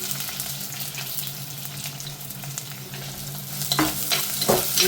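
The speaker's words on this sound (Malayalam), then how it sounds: "എന്നിട്ട് ഈ ചെറിയ ഉള്ളി അരിഞ്ഞ് വെച്ചത് ഇട്ട് കൊടുക്കുകയാണ്." Chopped shallots sizzling in hot oil with ginger, green chili and curry leaves for a sardine peera dish, stirred with a spatula, giving a steady close crackle with scraping clinks that grow sharper toward the end.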